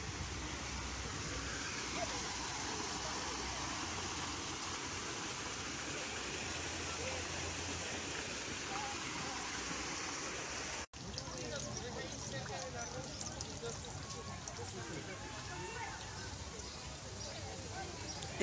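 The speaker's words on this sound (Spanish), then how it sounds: "Aquí hay como una pequeña cascada." A small waterfall in a Japanese garden spills into flowing water, giving a steady, loud broadband rush that runs through the whole stretch and continues after a brief cut midway.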